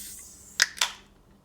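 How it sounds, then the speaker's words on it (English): A drink can is opened with two sharp, close clicks about a quarter second apart, a pop and hiss from the tab in an otherwise quiet space. "we open a can of drink."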